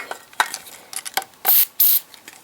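Short bursts of aerosol lubricant spray onto airsoft gun magazines, two distinct hissing blasts following a handful of small clicks and handling knocks, close and fairly loud.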